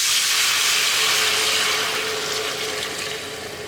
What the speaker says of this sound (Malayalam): നമുക്കിതിലേക്ക് നമ്മൾ മിക്സ് ചെയ്ത് വെച്ചിരിക്കുന്ന മാവ് ഒഴിക്കാം.